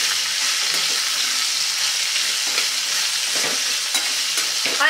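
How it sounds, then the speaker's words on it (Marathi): Finely chopped okra sautés in hot oil, a loud, continuous bright sizzle with occasional stirring scrapes running throughout. "आणि आता थोड्या वेळानं साधारण 5 ते 7 मिनिटं तेलावरती ही छानपैकी भेंडी आपल्याला परतून घ्यायची आहे।"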